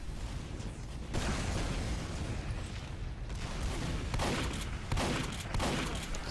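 Repeated booming blasts of demoman sticky bombs in a team shooter video game, several heavy explosions layered in a dense, continuous battle din with no speech.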